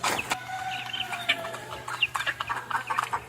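Backyard hens let out a busy run of short, repeated clucks and squawks nearby, several birds overlapping with no voices.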